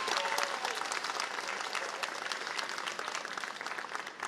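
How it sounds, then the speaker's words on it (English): Steady, dense applause from a large audience at an evening graduation ceremony, moderately distant and sustained throughout without a break. "I want you to give them a round of applause"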